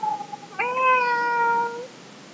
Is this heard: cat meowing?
yes